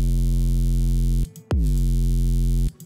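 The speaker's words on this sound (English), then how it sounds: "That's a weird 808." An 808 bass from the Serum synth with multiband compression sounds as loud sustained low tones carrying bright upper harmonics: one long note, a brief gap, then a second note that drops in pitch and holds before cutting off.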